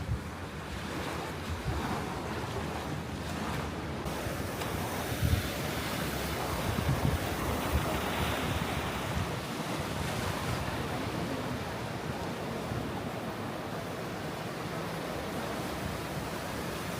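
Ocean waves wash onto a beach at Nusa Penida in Bali, a continuous broad roar of surf mixed with wind buffeting the microphone, with no voices.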